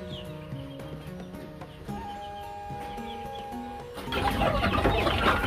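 Desi chickens on a poultry farm cluck and call in short repeated notes, fairly close, with a busier burst of scratching and rustling noise near the end.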